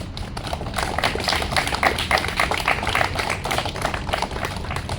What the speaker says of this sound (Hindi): तो उस थॉमस अल्वा एडिसन के लिए जोरदार ताली होना चाहिए कि नहीं?